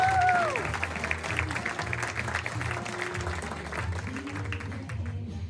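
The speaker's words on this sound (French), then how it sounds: "on peut les applaudir bien fort" An audience applauding at the close of a fashion show parade, moderate clapping spread across the crowd that runs steadily, with a voice and a few musical tones mixed in over a low background hum.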